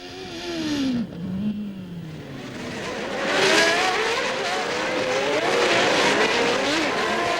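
Formula 1 cars from the 1993 season scream past at a tight hairpin where a McLaren runs into the back of a Minardi; high engine whines sweep and shift, then broadband roaring noise builds and holds loud.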